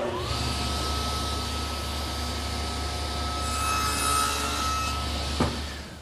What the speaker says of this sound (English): I'll make the shoulder cuts first